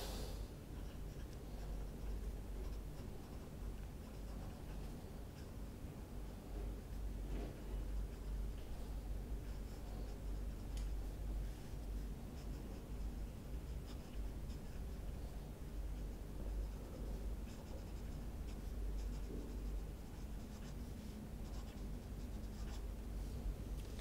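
A Pelikan M800 fountain pen nib writing on paper, a faint continuous scratching with small strokes and pauses, close up over a low steady background hum.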